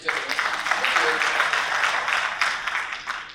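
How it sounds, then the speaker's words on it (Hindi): A seated audience at a financial-institutions business seminar claps in a dense, sustained burst of applause that builds and then tapers, with faint speech underneath. "बजा लीजिए, ताली बजाने में कोई दिक्कत नहीं।"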